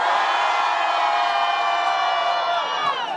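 A crowd at a rap battle cheers and shouts loudly and continuously, a dense close roar of voices holding steady before easing slightly at the end.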